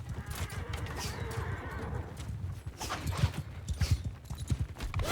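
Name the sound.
horses galloping in a video game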